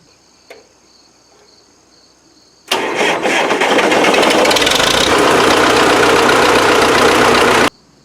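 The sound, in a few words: Farmall diesel tractor engine starting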